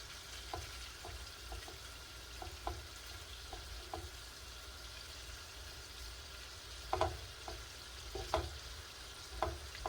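Shrimp fry in butter in a pan with a quiet, steady sizzle and crackle, broken by occasional clicks and scrapes from stirring and flipping.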